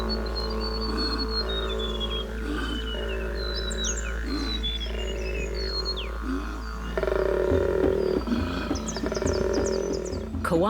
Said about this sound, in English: Koala males make this reverberating noise by inhaling and exhaling at the same time.